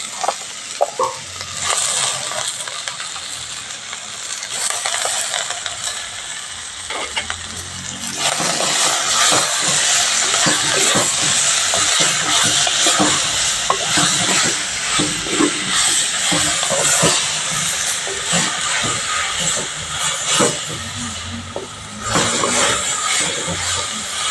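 Chicken pieces and ginger sauté in a hot pan for a village-style salted chicken dish, with steady loud sizzling and hissing that swells after a quieter start, broken by scraping stirs of a spoon.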